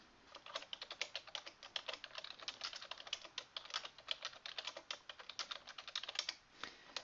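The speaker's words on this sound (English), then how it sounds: "I could then type a list." Continuous computer keyboard typing in Microsoft Word, rapid irregular key clicks at close range with short pauses, faint and without any voices.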